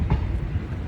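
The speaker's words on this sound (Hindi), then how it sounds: "फिलहाल भी ट्रेन वाशिम रेलवे स्टेशन को स्किप कर रही है।" A passenger train runs along the rails, heard from inside as a continuous low rumble with soft rhythmic thumps, fairly loud and close, with no voices over it.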